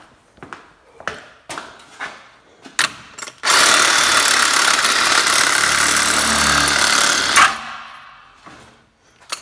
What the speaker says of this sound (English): Sawzall fixes everything.